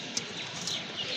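Pigeons for sale at a market, including a black male and an Andalusian pair, give faint chirps and soft bird calls over a steady background hiss, with a brief sharper call near the start.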